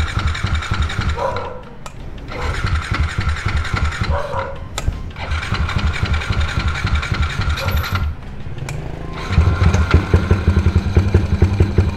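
A Yamaha LC135 V1 motorcycle engine, started after sitting unused for a long time, idles close by with a steady, loud, throbbing putter. Its pitch dips and recovers, and a voice speaks over it.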